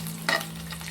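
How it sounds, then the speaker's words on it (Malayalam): Okra sambar being stirred in a pan after tamarind water is poured in, with a few brief scraping stirs over a steady low simmering hiss, close and fairly quiet. "ഇനി നമുക്ക് പുളിവെള്ളം കൂടി ഒഴിച്ച് മിക്സ് ചെയ്യാം"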